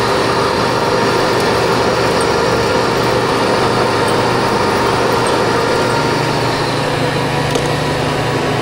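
A metal lathe takes a heavy facing cut of roughly 80 to 100 thousandths, a loud, steady continuous grinding drone with no breaks and no talking.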